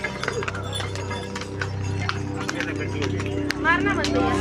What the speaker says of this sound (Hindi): फिर वापस घोड़े आते हैं।